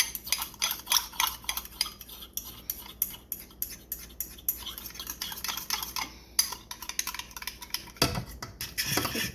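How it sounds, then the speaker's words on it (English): Flour being stirred into a pan for shepherd's pie, with rapid repeated scraping and clinking of a utensil against the pan, close and busy, with a brief louder clatter near the end. "Keep stirring as you add the flour."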